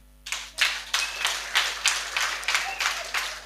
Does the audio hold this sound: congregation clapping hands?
yes